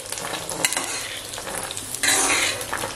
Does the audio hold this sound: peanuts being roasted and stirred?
yes